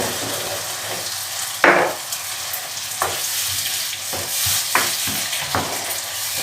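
Cabbage roll filling sautés in plenty of oil with a steady, close sizzle. A spoon stirs and scrapes the pan every second or so.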